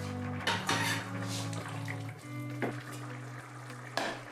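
Cooked vegetables tip into a risotto pan and are stirred, with close metallic clinks and scrapes of a utensil against the pan over a low steady hum.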